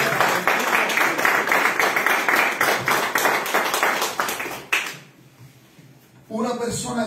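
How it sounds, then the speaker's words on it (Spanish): A church congregation claps steadily for several seconds under a voice during a sermon, then the clapping fades into near silence before talk resumes. "Un aplauso al Señor."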